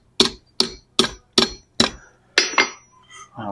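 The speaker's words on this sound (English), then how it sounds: "I'm going to use our hammer to pinch them a little closer." Blacksmith's hammer strikes on flat iron stock being forged into a decorative snail in a historic fort's smithy, five evenly spaced sharp ringing blows followed by two quicker hits, close and clear with no talk.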